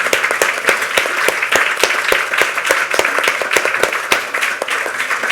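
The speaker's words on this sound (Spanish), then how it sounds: "Vamos a darle un aplauso, ¿no?" Audience members at a book presentation applaud the musicians, a close, lively round of clapping with sharp individual hand claps standing out over the steady patter of the crowd.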